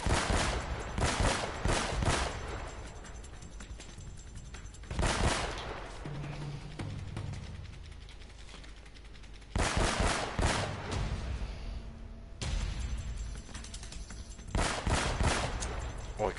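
Pistol gunfire in Uncharted: Drake's Fortune cracks out in rapid bursts of shots, loud and close, broken by quieter stretches between volleys, with a voice speaking faintly in places.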